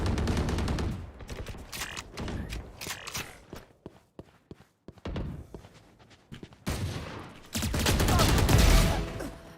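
Video game gunfire: bursts of sharp rapid shots in clusters separated by brief quiet gaps, with a dense, louder volley at the end and faint voices mixed in.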